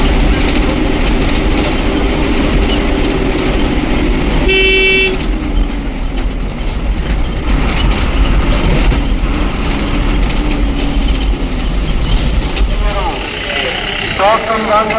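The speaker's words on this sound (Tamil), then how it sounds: "இப்போ சத்திரம் போகிற வண்டி வந்து வந்திருக்குங்க" A bus bound for Sathram in Kerala arrives with its engine rumbling nearby and a short horn toot partway through, while voices chatter in the background.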